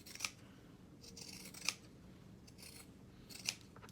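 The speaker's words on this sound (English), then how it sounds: "to clip the excess, I'm going to use some pinking shears" Pinking shears cut through excess fabric in three crisp, separate snips spaced about a second and a half apart, close and quiet, with faint rustling between cuts and no talking.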